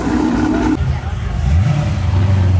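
A modified car engine at a cars and coffee meet takes a short blip of throttle, a loud low growl that rises in pitch and holds, with people talking nearby.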